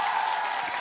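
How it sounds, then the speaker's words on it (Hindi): Brief, steady applause from a studio audience at a televised political debate show, a dense wash of clapping, moderately loud and continuous. "एक बार फिर से ताली बजाइए इनके लिए।"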